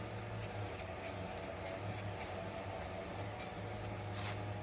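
Spray paint goes on as a light coat over a fiberglass repair blend area on a shuttle bus RV conversion, rhythmic short bursts of hissing spray, about eight passes, steady and close with no voices.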